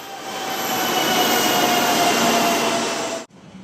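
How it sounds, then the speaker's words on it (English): A Japanese high-speed bullet train roars past with a steady rushing noise and a faint high squeal, then cuts off abruptly into quiet. "there aren't many faster ways than the bullet train of Japan Railways"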